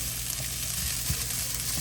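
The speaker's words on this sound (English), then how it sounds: "We'll start putting that rice in." About three and a half cups of rice go into a hot pan for spicy dirty rice with sausage and sizzle loudly and continuously, with faint stirring scrapes and no talking.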